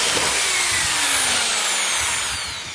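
A power screwdriver drives screws into plasterboard, whirring at a steady high pitch close by for the whole stretch, fading slightly at the end.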